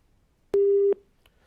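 A telephone busy signal after a dropped call during a TV news debate, a single clear steady tone lasting under half a second, isolated against near silence.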